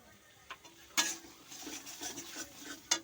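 Spice paste of black and yellow mustard with a spoon of sugar being sautéed and stirred in a pan for prawn malai curry: faint, quiet scrapes and light sizzling, with a few sharper spoon strikes against the pan.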